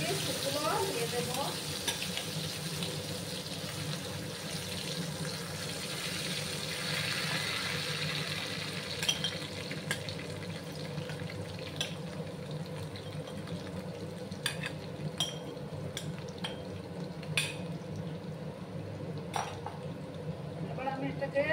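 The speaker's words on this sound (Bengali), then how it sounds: "এবার আমি দেখো সর্ষেটা ফুটফুট করে ফুটতে শুরু করেছে।" Mustard seeds crackle and splutter in hot oil for a Bengali banana-stem (thor) dish as flowers go into the pan, a steady close sizzle with scattered sharp pops and stirring.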